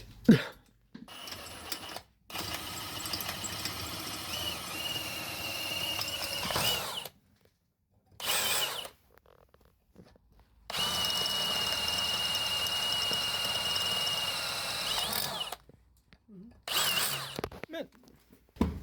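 A drill deburrs the edge of a cut metal part, a close whirring grind running in long bursts separated by short silences, the pitch steady within each run.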